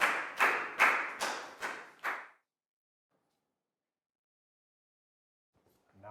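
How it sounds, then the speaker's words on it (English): A classroom of Year 4 pupils gives a short round of applause, five or six loud, sharp bursts of clapping close by in quick rhythm that stop abruptly, then near silence until a faint voice enters at the very end. "a round of applause"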